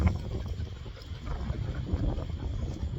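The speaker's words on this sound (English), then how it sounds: "Ooh, so windy." Steady outdoor wind buffets the microphone during a dog walk, a continuous low rumbling gust noise that stays loud throughout with no talking.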